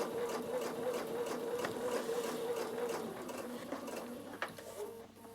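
A Bernina sewing machine stitches slowly down a seam of fabric on a small Christmas table centre, a steady close mechanical whir and needle chatter that runs continuously, then eases slightly near the end with a brief click.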